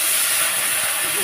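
Potatoes, cumin and dried red chilli hit hot oil in a pan with a loud, dense, hissing sizzle, steady and close throughout the short burst.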